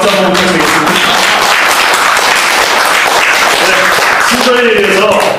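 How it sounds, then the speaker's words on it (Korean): Loud, sustained applause from a crowd at an association's general meeting, with voices talking over the clapping throughout. "저를 위해서 박수 한번 부탁드리겠습니다."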